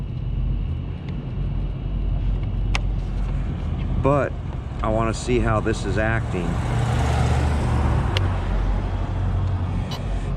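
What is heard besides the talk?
Arrma Limitless RC car driving on road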